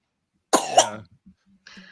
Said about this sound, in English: I unmuted and then you started coughing